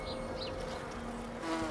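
Wild bees foraging over flower fields planted for them in the Black Forest, a faint continuous buzzing hum with small rises as insects pass, steady throughout a short stretch.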